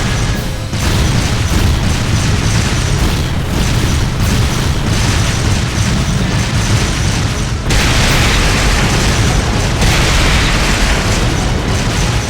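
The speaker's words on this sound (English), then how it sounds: "fire a barrage to cover your retreat" An artillery barrage in the Trails of Cold Steel 2 video game, a dense, loud, continuous roar of booming explosions with a brief break partway through.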